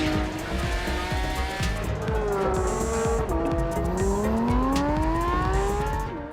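A 2022 Porsche 911 GT3's naturally aspirated engine drives and revs steadily, pitch climbing and falling through gear changes, loud and close with a rough mechanical texture and no talking.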